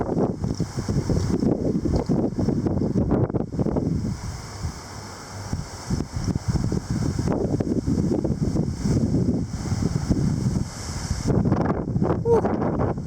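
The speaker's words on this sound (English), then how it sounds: "Power lines howling." Strong gusting wind howls steadily through power lines during heavy showers and strong winds, a loud continuous roar that swells and eases in gusts, with brief bursts of speech partly over it.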